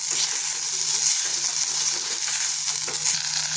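Pigeon pea paste with turmeric is stirred in hot oil in a pan, giving a steady soft sizzle with faint scraping strokes under it and no talking.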